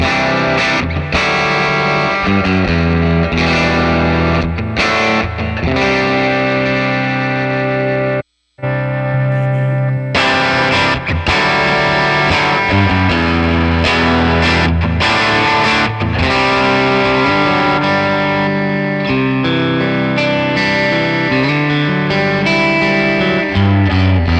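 Electric guitar played through a Dr. Z Z-80 amp capture with the tone stack zeroed, loud and saturated with dense chords and riffs, broken by one short silent gap before the playing resumes.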